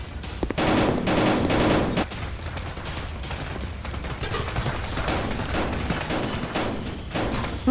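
Rapid gunfire from a VR shooter game crackles in dense bursts and fusillades, loud and continuous with brief pauses, machine-gun-like volleys layered over one another.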